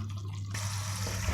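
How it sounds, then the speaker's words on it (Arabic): Taro is washed under a running tap: a close, steady splash and trickle of water, with a burst of fuller rushing water partway through. "نغسل القلقاس بقى مع بعض"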